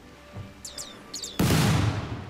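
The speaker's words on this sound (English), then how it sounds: "I did not expect those to be explosions." In the video game RimWorld, a sudden loud, crackling explosion erupts partway through and keeps rumbling, after a few quick chirpy electronic blips and low thuds.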